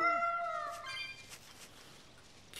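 Cats meowing in the Tales of Berseria video game: one clear, rising then falling meow at the start, followed by fainter mewing over a soft ambient background.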